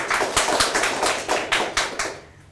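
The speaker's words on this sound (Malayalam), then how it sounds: "നല്ലൊരു കൈയടി കൊടുക്കാം." A talk-show audience claps in a short burst, sharp hand claps landing in an uneven rhythm before quickly fading out.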